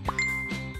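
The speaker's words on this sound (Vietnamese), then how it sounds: "Có tin nhắn nè." A phone chimes for an incoming message: a short, bright two-note ding with a ringing tail, clear and close, heard alone.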